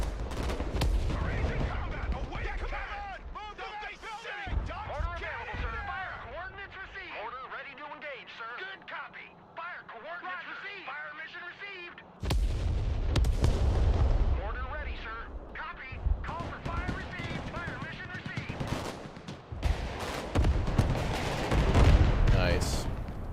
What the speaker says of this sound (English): Can you drop mortars on the occupied buildings? You can, yeah.